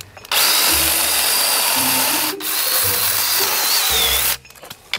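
A Craftsman cordless chainsaw lopper cuts a V-notch into a branch about 3 inches thick with two loud, close bursts of high-pitched motor whine. A short pause separates the bursts and the motor winds down at the end.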